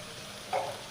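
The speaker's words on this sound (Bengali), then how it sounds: "মশলাটা একটু ভালো করে ভেজে নেব" Ground spices (cumin, turmeric and chili powder) fry in a pan, a brief soft sizzle rising midway against a quiet kitchen background.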